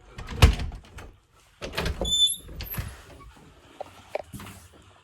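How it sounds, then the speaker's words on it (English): A bathroom door pushed shut at home, giving a few close thuds and knocks with a brief high squeak, no talk over it. "Close the door so Crypto won't get in there"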